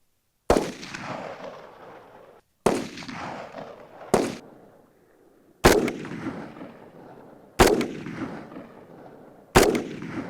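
Soldiers fire weapons in a demonstration outdoors in Nagarparkar: six separate loud gunshots ring out one by one at roughly two-second intervals, each sharp crack trailing off into a rolling echo, with no talk.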